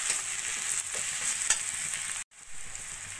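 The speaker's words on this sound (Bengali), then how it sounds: "আলু পেঁয়াজ ভালো করে ভাজা ভাজা করে নিয়েছি।" Potatoes and onions fry in a pan with salt, turmeric, cumin and Kashmiri chili powder, giving a continuous close sizzle broken by scraping stirs and a brief cutout.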